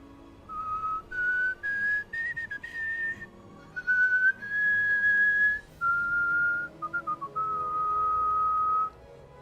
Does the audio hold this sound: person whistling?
yes